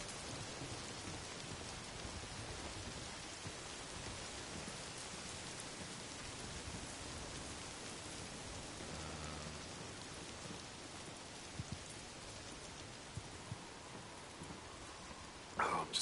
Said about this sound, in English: having to do stuff in the rain sucks